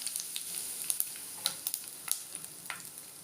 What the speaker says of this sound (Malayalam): കടുക് പൊട്ടി അതിലേക്ക് കുറച്ച് കറിവേപ്പില ചേർക്കണം.